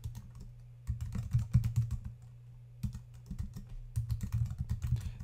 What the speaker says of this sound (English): smugmug.com and type in your email address.